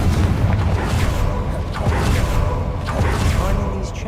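The Confringo blasting spell explodes in the video game Hogwarts Legacy as a string of heavy booms and bursts. They sound loud and close, layered over constant rumbling battle noise.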